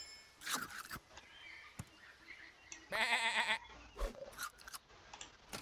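In the video game Super Auto Pets, a sheep gives a single clear, wavering bleat in the middle of soft game clicks and effects, with no talking.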